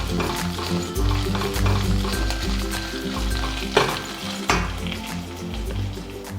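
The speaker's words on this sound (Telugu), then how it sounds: "అల్లం వెల్లుల్లి పేస్ట్ 1 నిమిషం వేగిన తర్వాత కరివేపాకు వేసుకోవాలి." Curry leaves fry with ginger garlic paste in a pan, giving a loud continuous sizzle broken by brisk spatula scrapes and occasional clanks against the metal.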